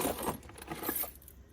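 A large ring of many keys jangles and clinks close by in dense metallic bursts that fade toward the end, with no talk over it.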